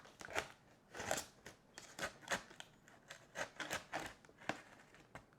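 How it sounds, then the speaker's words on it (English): A blade stabs and cuts into a cardboard shipping box of hoodies during unboxing, a series of about a dozen sharp, close scraping and crunching bursts in an irregular rhythm. "I just stabbed the box."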